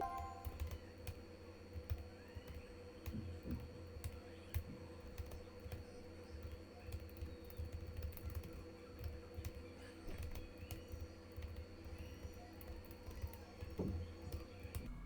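Quiet, continuous tapping on a computer keyboard while typing Python commands into an editor on Windows, irregular keystrokes running throughout over a low background hum.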